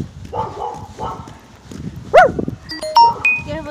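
A dog barks nearby outdoors, a few sharp yelps over street ambience and footsteps, with faint bird chirps and short tonal squeaks following.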